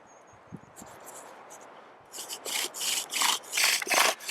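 A wooden bow drill spindle rubbing against a wooden board during burn-in, heard first as a few faint, sparse strokes, then as loud, steady back-and-forth rasping strokes in a regular rhythm, close up and with no talk.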